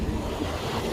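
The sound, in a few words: wind blowing outdoors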